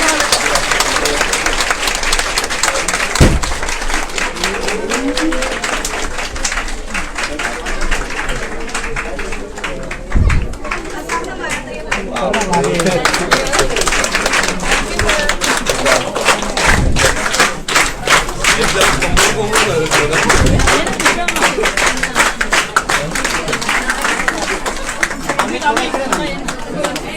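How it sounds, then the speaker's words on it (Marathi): Crowd at a free mehndi class inauguration in Savarkarnagar claps to welcome the new batch, loose uneven applause mixed with thuds, chatter and movement, with talk over it at times. "सर्वांनी टाळ्या वाजवून जोरदार स्वागत करावे"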